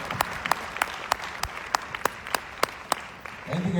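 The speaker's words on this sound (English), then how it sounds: "Let's have a round of applause for all those lovely answers" Sparse, slow clapping from what sounds like a single person or small group, about a dozen sharp claps at a steady rhythm, fairly quiet, with a brief voice entering at the end.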